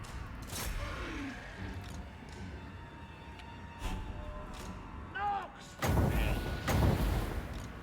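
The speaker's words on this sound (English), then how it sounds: "the units there have started to shoot" Goblin and spider units in Total War fire in scattered volleys, with distant booms and thuds over a low battlefield rumble and a louder burst of impacts near the end. Voices are heard faintly.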